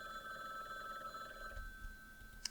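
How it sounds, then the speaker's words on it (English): Telephone ringing in the video game Rainswept, a steady electronic ring with sustained tones that cut off partway through, quiet and alone with no talk. "The phone rang."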